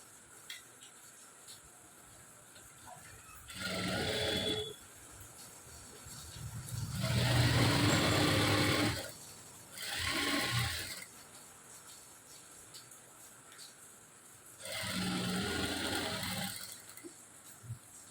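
A sewing machine stitches lined straight trousers in four separate runs of whirring, each a few seconds long with short pauses between. The sound is close and clear, and no one speaks.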